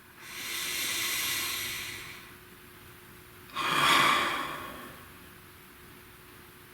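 A slow, deep breath taken close up: a long airy inhale followed after a pause by a shorter, stronger exhale, with no talking.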